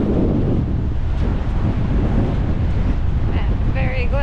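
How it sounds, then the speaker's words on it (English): A chilly wind blows hard on a Pacific Northwest coast, a steady, loud roar buffeting the microphone, with a faint bird call near the end. "That wind is chilly."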